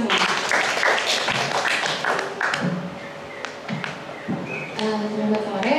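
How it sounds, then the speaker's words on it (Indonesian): A crowd applauds with a dense patter of clapping that thins out and fades over several seconds. "Tepuk tangan untuk kita semua."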